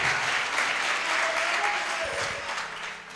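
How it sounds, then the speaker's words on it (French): A church congregation breaks into loud, sustained applause that fills the room evenly, with a voice faintly audible underneath. "si c'est la vérité, acclame encore Jésus"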